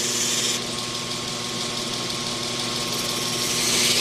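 A knife blade being hollow ground on a grinding wheel, its cutting edge held against the wheel face, gives a steady loud broadband hiss and whine over a constant motor hum, continuous throughout with no talking.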